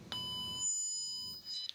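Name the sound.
tone and trace set tracer probe tone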